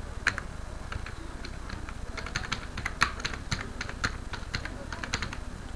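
Rapid, irregular keystrokes on a computer keyboard tap along steadily over a constant hiss of background noise, near and moderately loud, with no voices.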